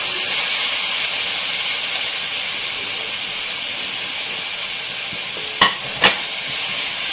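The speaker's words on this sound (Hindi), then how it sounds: "इसको सब चीज़ों को अच्छी तरह से भून लेना है साथ में मिक्स करके" Grated carrot halwa with butter and almonds roasting in a pan, giving a dense, continuous hiss with a few faint spoon taps and two brief knocks near the end.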